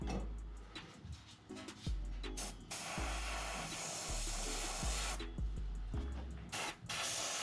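Close airbrush spraying gold paint onto a small bluegill-style fishing bait: a steady, loud hiss broken into short bursts by brief pauses and trigger releases.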